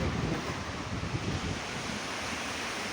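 Mediterranean Sea waves washing onto the beach at El Rissa, Arish, with chalets nearby, a steady soft surf wash and wind rushing throughout, moderately quiet with no voices.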